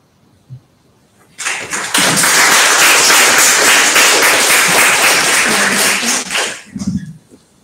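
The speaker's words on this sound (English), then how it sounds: "Another round of applause for everybody" Audience applause at a book launch event for a Manchester anthology, a sustained burst of loud clapping from a small crowd lasting several seconds before tapering off.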